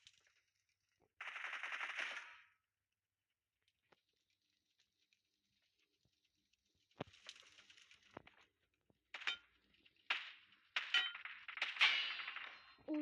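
Gunfire in the PUBG video game, with a burst of automatic fire, a lull, then several sharp shots and rapid bursts, crisp and fairly loud, alone with no talk.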